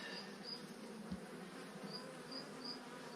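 Honey bees swarm around an open hive during a backyard beekeeping inspection, making a soft, continuous buzzing drone with slight swells as individual bees pass close by. The sound is faint throughout, and no one speaks.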